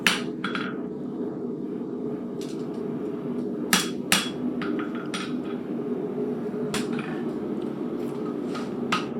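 A steel bar shoe for a horse is forged with a hammer on an anvil, giving sharp ringing metallic strikes in irregular clusters, some doubled, over a low steady background hum.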